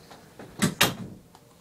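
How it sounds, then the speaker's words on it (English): A door closes indoors: two quick knocking thuds from the latch and frame, close and fairly soft, against a quiet room. "So I just had to close my door."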